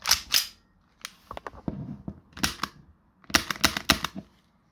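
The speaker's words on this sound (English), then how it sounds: "Let's do a test shot." Test shots from an Umarex CO2 airsoft pistol: sharp, close snapping pops in short bursts, a pair, then scattered clicks, another pair and a quick cluster of four or five, with brief silences between.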